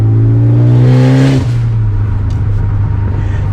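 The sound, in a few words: 2015 Ford Focus ST car driving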